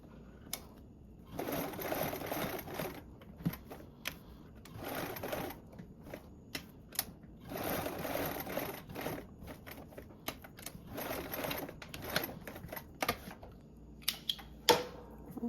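A sewing machine top stitches a tote bag strap in bursts of rapid mechanical whirring, several runs of a few seconds each separated by short pauses and clicks of fabric handling, heard close up.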